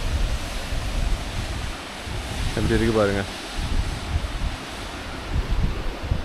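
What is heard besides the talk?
water cascading down near a waterfall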